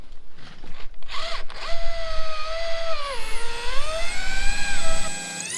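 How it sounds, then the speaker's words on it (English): A power drill whines during a tiny house renovation, opening with short bursts, then running in a long sustained spin whose pitch sags and rises as it bites into the material, close and loud. "You were drilling backwards."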